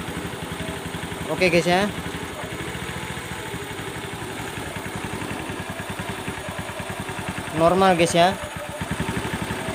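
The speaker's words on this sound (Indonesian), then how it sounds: "Satu kali starter langsung hidup ya." A Honda Beat Street ESP scooter engine starts and settles into a steady, close idle, with two short bursts of revving. Someone talks briefly over the engine.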